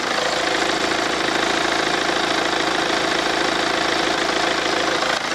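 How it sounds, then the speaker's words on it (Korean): A diesel engine in a white 2.0 Hyundai Tucson with about 100,000 km idles steadily with the engine bay open, a dense, continuous, even clatter heard up close with no speech. "나가서 디젤 엔진 소리 한번 들어봐야겠죠"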